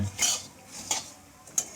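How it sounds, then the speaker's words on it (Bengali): Puffed rice being dry-fried and stirred in a pan, making three short scraping, rustling bursts with quiet gaps between them, close by with no talk. "দেখো মুড়ি ভাজছে"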